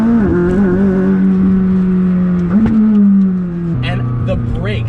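A DME-tuned McLaren 600LT sports car accelerates hard from inside the cabin, its loud engine droning and climbing in pitch, with quick gear shifts breaking the pull twice.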